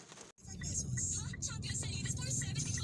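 Steady road traffic on a flooded street in Taguig City during a typhoon makes a close, continuous engine rumble with a brief dropout, and a voice is heard talking over it.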